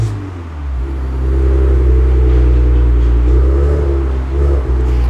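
Maserati Levante F Tributo SUV with a 3.0 V6 turbo engine of 430 hp revving hard through its exhaust with the flaps open, a loud, deep, sustained roar that swells and holds close by with no talking.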